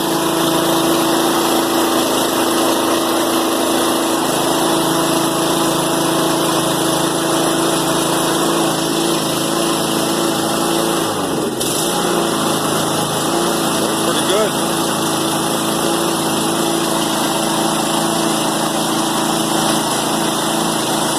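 A Cub Cadet lawn mower engine running steadily after a carburetor repair, a loud constant droning hum close by with a voice speaking over it.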